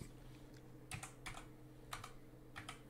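Soft clicks of typing on a computer keyboard, several quick keystrokes in small clusters, faint and close against a low background hum.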